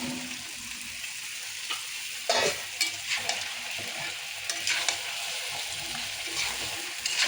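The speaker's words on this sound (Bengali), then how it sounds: "কচুটা ভালো করে কষাই নিয়ে তারপরে ঝোল দিয়ে মাছ দেওয়া লাগবে।" Taro is fried and stirred in a pan for a rohu fish curry, a steady close sizzle broken by repeated scraping strokes of a spoon against the pan.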